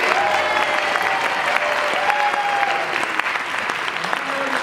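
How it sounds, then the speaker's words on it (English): Audience at a spring college convocation applauds a group of winners, steady loud clapping throughout with faint voices mixed in. "So that'd be a big round of applause for our random group of winners."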